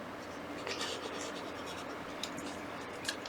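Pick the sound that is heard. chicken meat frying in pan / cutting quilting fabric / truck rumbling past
cutting quilting fabric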